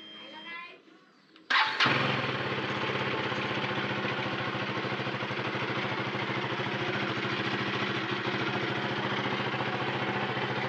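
A motorcycle cold-starts after a few seconds of quiet talk, catches with a sharp burst and settles into a steady, even idle that runs close and loud to the end.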